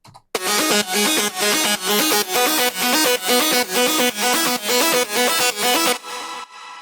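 A bright, buzzy progressive house synth lead plays a quick repeating melodic pattern in evenly pulsed notes, loud and alone, then stops abruptly with a brief tail.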